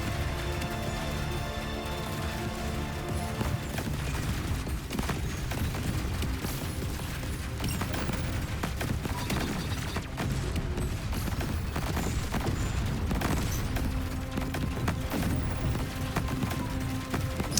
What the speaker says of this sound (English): These vines that are coming and popping up, creating explosions around you